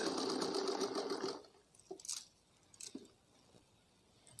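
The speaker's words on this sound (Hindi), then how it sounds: "इसकी ये सिलाई लगा लेते हैं" A sewing machine runs a short burst of stitching on an umbrella frock, then stops, followed by quiet handling clicks and rustles of fabric.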